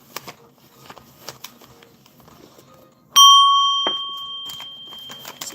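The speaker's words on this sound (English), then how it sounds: "I'm gonna hit the bell." A bell is struck once, ringing out with a loud, clear ding that decays slowly over a couple of seconds after quiet tapping and shuffling.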